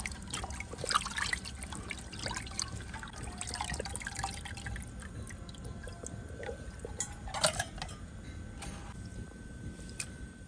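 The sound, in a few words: washing cut fish in water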